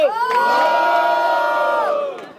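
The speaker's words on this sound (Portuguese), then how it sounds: "Quem achou melhor as rimas de Apolo, faça barulho" A large crowd at a freestyle rap battle roars and cheers loudly and steadily for about two seconds, then the noise fades out.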